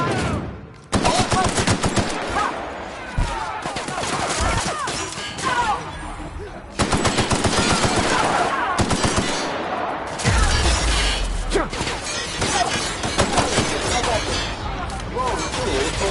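Loud gunfire from The Outer Worlds on PS5, dense bursts and rapid automatic shots layered with crashes and game effects, with in-game voices heard throughout.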